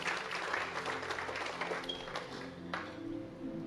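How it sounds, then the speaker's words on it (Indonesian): A church congregation applauding, a dense, steady wash of clapping hands across a large room that thins slightly near the end. "Kasih tepuk tangan yang luar biasa buat Tuhan."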